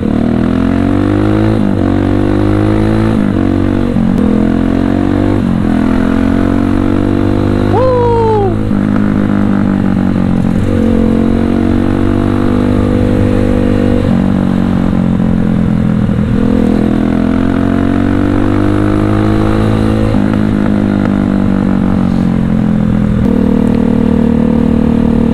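A Viar Cross-X 200 SE motorcycle on a city test ride, its engine droning loud and close with repeated rises and falls in pitch as it accelerates and shifts, running continuously.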